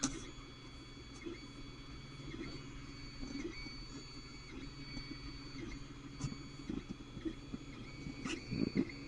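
A Creality Ender 3 3D printer lays down a first layer, its stepper motors whirring and humming quietly with small rhythmic ticks and shifts in pitch as the head moves back and forth.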